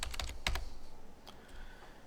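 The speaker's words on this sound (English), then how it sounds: "I just start typing it" Typing on a computer keyboard, a few quick close key clicks in a short burst, then sparse fainter taps over quiet room tone.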